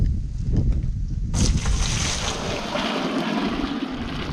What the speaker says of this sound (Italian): Mettiamo l'acqua calda che è pronta